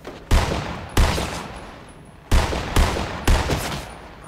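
Sniper rifle shots in a video game, five loud sharp reports spaced irregularly, each with a short decaying tail, with no voices.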